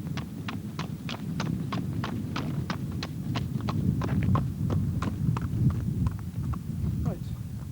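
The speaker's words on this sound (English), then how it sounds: "a number of horses were required to trot up on the concrete access drive" Horses trot in a quick, even rhythm on a concrete drive, each clop crisp and distinct, while a low murmur of voices continues underneath, during soundness checks at an endurance riding championship.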